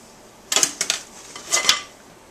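Cake batter is divided between two greased and floured metal pans, giving two short clusters of bright clinks and scrapes of utensil against pan with a brief pause between them. No voice is heard.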